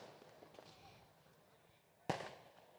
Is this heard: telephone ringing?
no